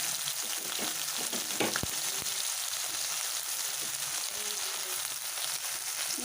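Ground spice paste hits a pan of hot oil and is mixed in, giving a loud, steady frying sizzle broken by a few sharp utensil knocks and scrapes; nobody speaks.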